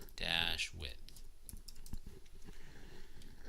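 Scattered computer keyboard keystrokes while entering web page code, quick irregular clicks following a burst of speech at the start.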